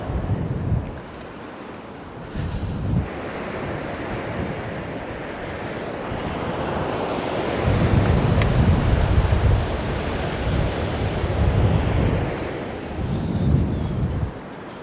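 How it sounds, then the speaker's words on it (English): Wind and surf on Cambois beach in Northumberland as the tide pushes in: loud, continuous wind rush over rolling waves that swell and break in repeated surges. "that wind's picking up a bit. Tide's pushing hard."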